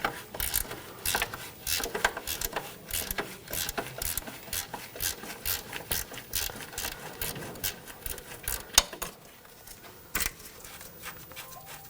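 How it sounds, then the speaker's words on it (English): A ratchet wrench turns a nut on a 2000-2006 BMW X5 rear control arm, a fast, close run of repeated clicking strokes in bursts, with no talking. "Switch to a ratchet wrench, makes it a little easier. Take this nut off."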